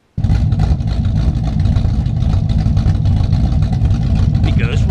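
A 1978 Chevrolet C10 Squarebody race truck with a 305 small-block V8 starts up abruptly and runs loud and close, a rough, throbbing idle with a steady rumble that continues without pause.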